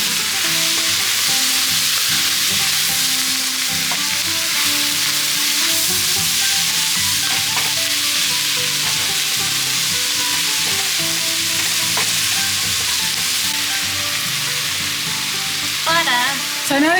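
Carrots and celery fry in a pan with leeks for clam chowder, producing a loud, continuous sizzle with occasional stirring knocks and scrapes, steady throughout and without speech.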